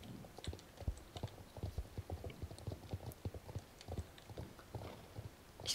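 A fast little pony gallops in the video game Star Stable Online, its hooves making a quick, steady clip-clop rhythm that stays fairly soft throughout.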